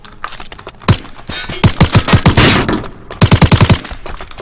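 A machine pistol in a Minecraft PvP map fires loud, close bursts of rapid shots, first a few single cracks and then two quick rattling volleys separated by a short pause.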